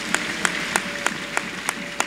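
A church congregation claps in a steady rhythm, one crisp beat roughly every third of a second, ringing over a diffuse background of room noise.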